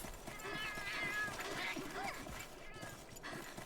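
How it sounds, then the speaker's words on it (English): A cat in Monster Hunter 3 Ultimate meows repeatedly in whiny, pitched calls, fairly quiet and layered over busy game sounds and soft footsteps. "My god, cat, piss off."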